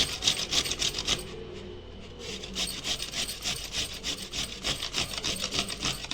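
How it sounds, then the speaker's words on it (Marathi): Indian gooseberries (amla) are rubbed over a hand grater in quick, rhythmic rasping strokes, close and moderately loud, after a short pause near the start. "हे आवळे ना मी आता किसणीवर आहे ना किसून घेते"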